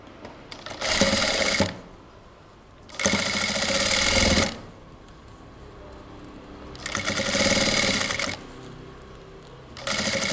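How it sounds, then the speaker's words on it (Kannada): A sewing machine stitching along the edge of a piece of lace, running in steady whirring bursts of a second or two separated by short pauses, close and fairly loud. "ಈ ಲೇಸ್ನ ಈ ಕಡೆ ಈ ಎಡ್ಜಲ್ಲಿ ಸ್ಟಿಚ್ ಮಾಡ್ಕೊಂಡು ಬನ್ನಿ."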